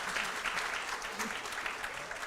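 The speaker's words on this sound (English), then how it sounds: "let's give a round of applause to that," Audience giving a round of applause during a college tour event, steady dense clapping throughout at an even level with no talk.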